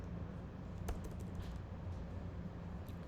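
Typing on a computer keyboard during a PHP programming lesson, a soft steady patter of quiet keystrokes with one sharper tap, close and faint over low room hum.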